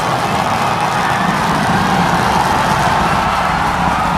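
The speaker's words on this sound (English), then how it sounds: "Booster now hovering as it aligns with the tower for catch." The Starship Super Heavy booster roars steadily on three engines during its landing burn as it hovers beside the launch tower for a catch on Flight 7. The sound is a continuous, rough, rumbling wall of noise with no breaks.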